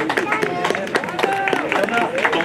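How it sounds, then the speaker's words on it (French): Crowd at a 2024 trail challenge race applauding a lone runner as she finishes, dense steady clapping close by mixed with cheering voices and background chatter. "Et on l'applaudit très fort parce qu'elle était toute seule"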